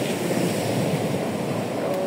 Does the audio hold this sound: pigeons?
no